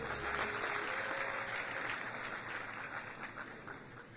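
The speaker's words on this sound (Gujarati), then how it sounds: "જીતુભાઈને તાળીઓના નાદથી વધાવીએ" An audience at a ceremony honouring newly trained government officers breaks into steady applause for Jitubhai Vaghani, a broad crowd of clapping hands that holds evenly and slowly eases off, with no talk over it.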